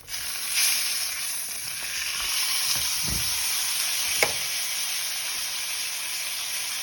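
Ribeye steak searing in a hot pan, making a loud continuous sizzle and hiss close up, with a couple of brief knocks partway through and no talking.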